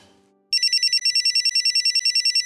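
Mobile phone ringtone going off indoors, a loud electronic melody of rapid repeating tones that starts abruptly after a faint fading note and keeps ringing steadily.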